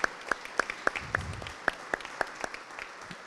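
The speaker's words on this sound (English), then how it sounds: "So please give them a round of applause." Audience at a cathedral's annual meeting claps in a quiet room, sparse individual hand claps rather than a full roar, fairly soft and brief, with no talking over it.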